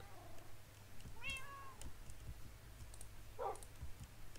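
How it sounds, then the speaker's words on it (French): A short, synthetic zombie cat meow rises and falls in Minecraft, then a brief chirpy yowl later, over a faint electronic hum and light clicking. "un chat est littéralement en train d'attaquer"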